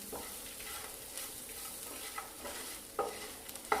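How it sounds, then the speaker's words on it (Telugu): Crispy corn tossed in a pan with chilli flakes and oregano over high flame, a soft steady sizzle broken by several spatula scrapes and clinks, the last one sharper near the end. "ఇప్పుడు మనం వేసిన ఫ్లేవర్స్ అన్నీ కూడా మనకి క్రిస్పీ కార్న్కి బాగా కోట్ అయ్యేలాగా కలుపుకోవాలి"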